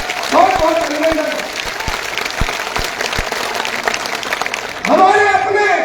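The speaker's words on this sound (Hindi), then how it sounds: "जोरदार तालियों के साथ बहुत बहुत अभिनंदन।" Applause from a large crowd at an outdoor BJP election rally in Malkheda, a dense wash of clapping running throughout under a loud announcer's voice over the PA system, with a few sharp low thumps.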